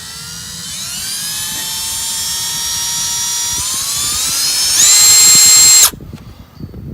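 A power drill running in reverse on the bolts of a Honda S2000, a loud steady high whine with rising pitch that cuts off abruptly, followed by faint clunks.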